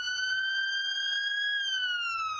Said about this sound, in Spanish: el tono de la sirena va bajando a medida que la ambulancia se aleja en la distancia